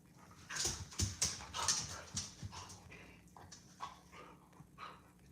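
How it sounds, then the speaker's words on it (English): Two small Chihuahuas bark and whimper close by in a busy run of sharp yaps, whines and panting that fades toward softer whimpers, with no talking. "They sound like Chihuahuas."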